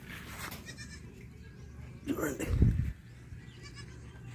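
Goats in a shed give a single nearby bleat in the middle of the moment, with quiet background speech and low room noise around it.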